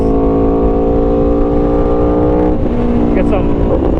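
A 2018 Aprilia Tuono V4 Factory motorcycle running in race mode, its steady loud V4 engine drone holding a constant pitch, then shifting and revving near the end, with a voice speaking over it.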